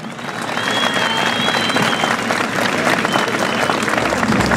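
Crowd applause and cheering at a bull-riding tournament in an arena in Vista Hermosa, Oaxaca, a dense, steady roar of clapping that builds within the first half second and holds loud throughout.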